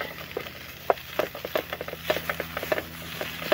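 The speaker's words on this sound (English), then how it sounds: "the bacon is sizzling up really nicely" Bacon sizzling in a pan without oil over a very hot campfire, with faint crackling pops and a light spattering texture, quiet and steady with scattered louder snaps.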